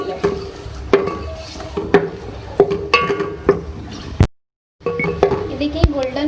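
Onions fry in a pan for potato gravy, with a soft sizzle under sharp metal spatula clinks and scraping that come at a regular pace, broken by a brief silent gap.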